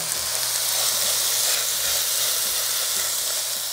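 Onion sizzling steadily in a hot pan as the base for a vegetable risotto, a continuous bright crackling hiss that stays loud and even throughout with no talking.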